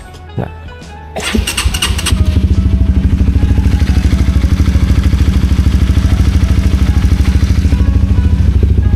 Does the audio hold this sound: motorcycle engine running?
yes